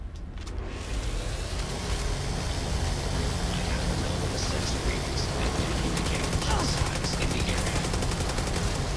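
An AA99 semi-automatic rifle fires in the game Starfield, with dense, loud gunshots running almost continuously as overlapping bursts of sharp reports.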